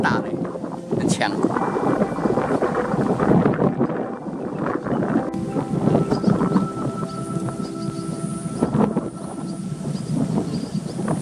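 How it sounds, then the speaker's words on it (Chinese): Strong Luoshan fall wind gusting into a microphone at a suspension bridge in Manzhou, southern Taiwan, a loud, sustained rumbling roar with uneven gusts and faint background tones. "这落山风很大嘞，很强"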